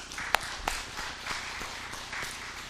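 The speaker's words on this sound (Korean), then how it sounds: "영광의 박수 돌립니다." A church congregation at a Sunday morning worship service claps in praise, a soft, even patter of many hands with a few sharper individual claps standing out, and no talk over it.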